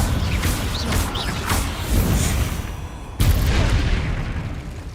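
Confringo explosive spell blasts in the video game Hogwarts Legacy, loud booming bursts with a sharp new blast about two-thirds through, over dense rumbling combat noise.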